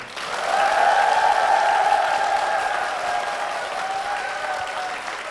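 Church audience in Gwangju applauding and cheering for a pastor, a sustained roar of clapping with shouting voices that swells, holds, and slowly eases off.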